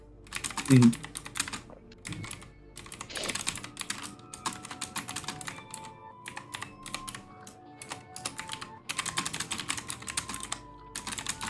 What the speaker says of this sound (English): Sorry, I'm typing this out.